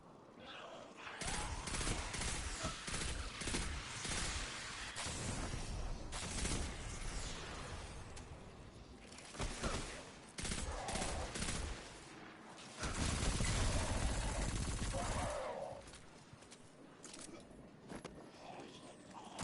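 Submachine gun fire in Destiny 2 rattles in dense, sustained bursts with short breaks between them, loud and close within the game's ambient sound, with no talking over it.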